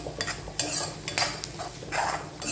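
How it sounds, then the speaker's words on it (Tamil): Ground masala frying in coconut oil in a kadai is stirred with a spoon for an Onam poriyal, giving a steady sizzle broken by several scraping strokes against the pan, close and without talk. "போட்டு நல்லா கிளறி விடுங்க."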